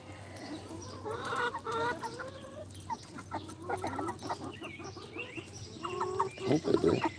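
Chickens cluck close by in a backyard coop, a lively run of short, varied clucks and calls that swell louder toward the end, with no talking.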